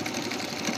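A Merritt Workmate sewing machine stitches in reverse with a brief, steady, fast needle whir, close and fairly quiet, with no talk.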